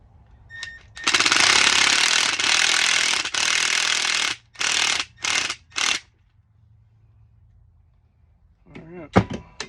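A power drill drives a fastener into a transducer bar, whirring loudly for several seconds and then stopping and starting in short bursts. Quiet handling noise and a faint voice follow at the end.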